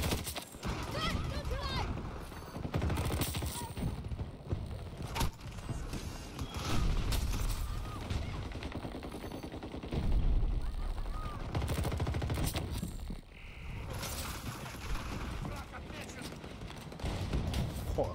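Video game Battlefield 2042 weapon fire, rapid bursts of gunshots crackling on and off amid game noise, with someone talking over it.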